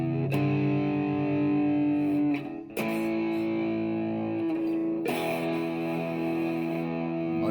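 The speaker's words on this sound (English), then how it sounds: "That's serious sweet heavy tone." Heavy, thick distorted electric guitar tone from a Tube Screamer pedal at high gain, three loud sustained chords struck a few seconds apart and left ringing, playing alone without voices.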